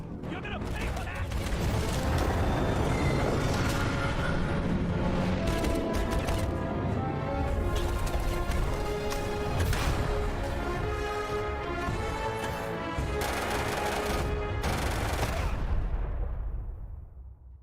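Video game trailer action sequence with dense gunfire: rapid shots and explosions layered over a loud continuous music and effects mix, voices mixed in, running steadily before cutting off abruptly near the end.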